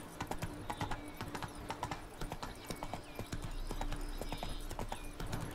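Geralt's horse Roach clip-clops across a bridge in Witcher 3, a steady fast stream of hoofbeats, close and clear, with a low rumble joining partway through.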